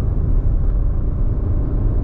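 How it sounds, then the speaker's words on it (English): A Suzuki Swift hybrid with a three-cylinder engine labours up a steep hill, giving a steady, close, low rumbling drone with no talk over it. "it's got a zippy engine to it. Zippy, nippy engine. Nice sound to it"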